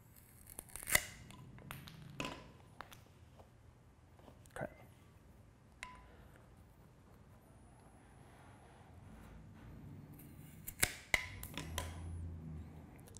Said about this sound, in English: we're gonna pick this piece back up and cut it